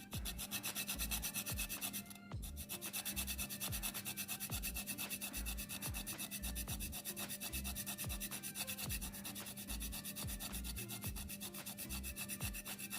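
Whole nutmeg is rubbed against a grater in steady, even strokes, a soft rasping scrape that repeats for about thirteen seconds with no talk, made while preparing Jamaican peanut punch.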